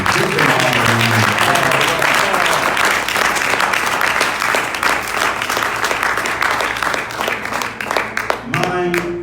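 Congregation at a church lecture gives a sustained round of applause, dense clapping filling the room at close range and thinning toward the end, with someone speaking over it.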